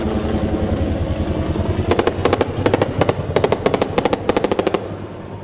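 Gunshots ring out during a street shootout in a residential neighborhood of São Gonçalo, Brazil: rapid clustered bursts of sharp cracks over a rumbling background, loud and fairly close, with no talk.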